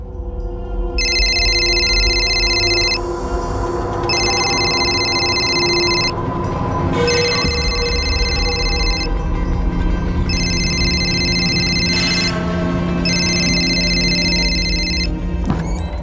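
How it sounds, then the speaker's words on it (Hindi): A telephone rings in repeated two-tone bursts, five rings evenly spaced, over a steady background hum, with no one picking up. "रिंग जा रही है, कोई पिक नहीं कर रहा है सर"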